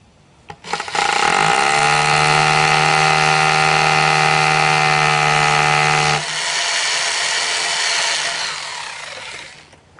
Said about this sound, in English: drill that 1/4 inch hole.